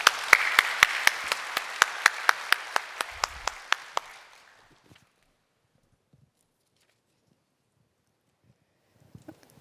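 Sharp, evenly spaced hand claps from a church congregation ring out for a few seconds, then stop abruptly, leaving near silence with faint sounds.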